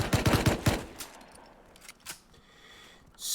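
Rapid automatic rifle fire in the survival game Rust, a tight burst of loud, close, sharp shots at the start, then a few scattered clicks and clatters as the firing stops.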